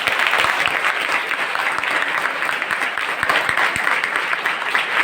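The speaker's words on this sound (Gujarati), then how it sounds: "એક વખત તમારા સૌના માટે એક વાર જોરદાર તાળીઓ." An audience at an expert talk bursts into steady, enthusiastic applause, a dense patter of many hands clapping continuously throughout.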